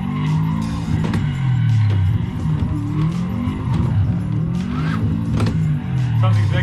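A silver all-wheel-drive Subaru WRX at a motorsport club gives a loud, close, throaty engine rumble that swells and falls in repeated revs, with some talk faintly underneath.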